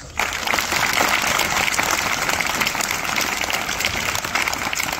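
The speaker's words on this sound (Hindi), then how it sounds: "आइए हम सब श्रमिकों के सम्मान में उत्साह के साथ उनके लिए तालियां बजाएं।" A crowd at a Labour Day school celebration in Dhampur bursts into loud, sustained applause honoring the workers, with dense clapping continuing evenly throughout after a sudden start.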